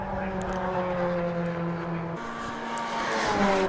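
FunCup and MX-5 race cars lapping Silverstone through Cox Corner in a four-hour race, a continuous blended engine drone heard from a distance, the pitch shifting midway as one car passes and another takes over.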